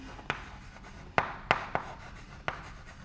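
Chalk or marker tapping and scratching on a board during a mathematics lecture: a handful of distinct, sharp strokes at uneven intervals over a quiet room background.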